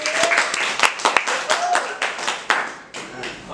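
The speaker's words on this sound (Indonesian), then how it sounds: "Beri dulu tepuk tangan." A classroom group claps for a pupil during a microteaching lesson, giving irregular, fairly close hand claps with uneven bursts and a faint voice now and then.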